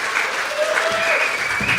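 Live audience at a brewery show applauding and cheering for veterans, a dense sustained wash of clapping with scattered whoops, steady and loud throughout.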